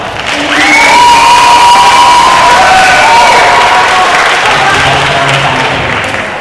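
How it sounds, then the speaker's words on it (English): A school competition audience at Vajiravudh College breaks into loud applause and cheering, with shouts and whoops rising over sustained clapping that holds steady for several seconds. "please give a round of applause to Toya."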